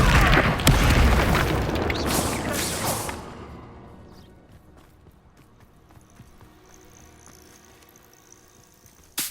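Incendio fire spell cast in Hogwarts Legacy, a loud whooshing blast with a booming burst over the first few seconds, then fading into a quiet background with faint insect-like ambience.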